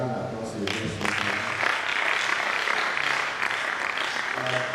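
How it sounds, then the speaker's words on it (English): An audience at an annual registry lecture applauds the guest speaker, a dense wash of clapping from a crowded hall that runs steadily through the moment, with some voices mixed in. "can we once again give a round of applause to the guest speaker?"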